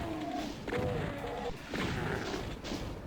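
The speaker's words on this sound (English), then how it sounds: "As you can see, there's a lot of firing going on." Gunfire and impact blasts from the video game DOOM, map E1M9 Abandoned Outpost, come in a few sharp bursts with crashing thuds, fairly quiet overall across three seconds.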